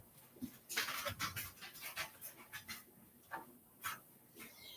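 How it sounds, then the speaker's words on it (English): Several dogs pant in quick, uneven bursts close by in a room where goat's milk soap is being made, with a few soft whimpers mixed into the breathy rhythm. "Go on, dogs. Don't come in here while I'm soaping."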